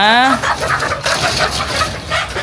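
Egg-layer chickens at a large poultry farm of about 9,000 birds: a loud nearby call opens, followed by busy clucking and murmuring from the flock over a low mechanical hum.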